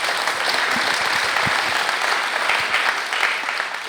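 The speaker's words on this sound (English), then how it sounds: "Let's give all those electeds a round of applause for being here." An audience applauds elected officials at a civic event for an El Camino Real roadway renewal, with steady, dense clapping that stays loud and continuous throughout.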